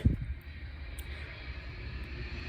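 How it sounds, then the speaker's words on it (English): A fixed-wing airplane passes overhead near a hotel in Louisville, a steady low engine drone that holds constant throughout, distant but continuous, with no talking. "there's a plane overhead"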